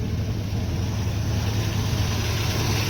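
An old Pontiac car engine idling steadily after warming up in a garage, a smooth, continuous low rumble with a broad hiss over it, unchanging throughout and close.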